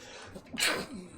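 A single short sneeze, fairly close, a quick breathy burst after a faint intake of breath.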